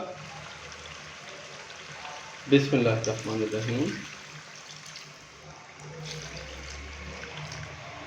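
Water is poured from a glass into a pot of beef achar gosht that has been cooking with tomato paste and yogurt, a short splashing pour of about a second. Someone speaks quietly around it.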